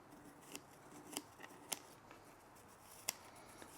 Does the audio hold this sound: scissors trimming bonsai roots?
yes